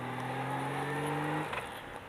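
A first-generation Honda Ridgeline pickup truck passes close by with an engine drone whose pitch slides down as it goes, fading into background noise.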